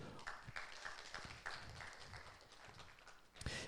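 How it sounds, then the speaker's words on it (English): Chamber music audience applauding guest musicians in a concert hall, a short, fairly faint patter of clapping from a modest crowd. "Please give them a round of applause."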